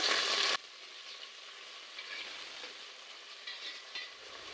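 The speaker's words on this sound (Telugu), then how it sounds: "ఈ ఫ్రై అయిపోయినాయండి" Coriander, mint and curry leaves frying in ghee, a soft steady sizzle that starts with a loud burst, then settles into a quieter continuous hiss with occasional small crackles.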